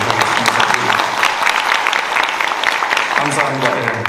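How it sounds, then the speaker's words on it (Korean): Audience applause for a panel discussant at a real-estate development seminar, a dense, steady clatter of many hands, with a voice briefly speaking underneath near the end. "여러분들이 주시는 박수의 크기로 토론자의 질적 내용을 평가하도록 하겠습니다"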